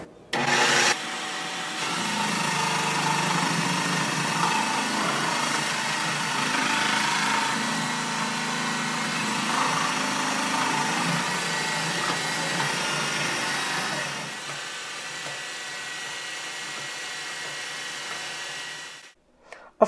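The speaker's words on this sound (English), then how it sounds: "So we're going to start grating our carrots." Carrots being shredded in an electric food processor for carrot cake: a loud, steady motor whir with grinding texture that runs continuously for about twelve seconds, then cuts off and winds down to quiet.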